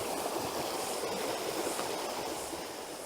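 Warrill Creek flows clear and steady, a continuous close rushing and burbling with no voices.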